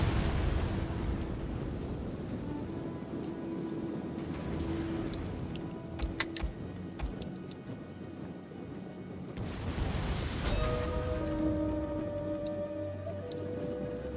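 Rumbling blasts and crackling booms in a busy ancient Roman battle soundscape from a strategy video game, with sharp bursts around the middle and sustained low roar throughout, no voices.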